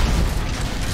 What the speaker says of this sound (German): Irgendwo in der Entfernung ist was explodiert.